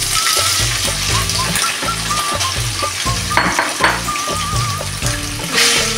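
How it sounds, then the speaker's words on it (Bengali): Paneer pieces fry in white oil in a wok with a loud, continuous sizzle close up, broken by stirring scrapes and light clinks of the utensil. "পনিরটা আমি ভেজে নেব।"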